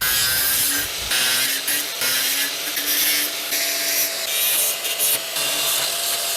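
An angle grinder with a Dnipro-M cutting disc at maximum speed cuts through metal, a loud continuous harsh grinding roar with slight dips as the cut progresses.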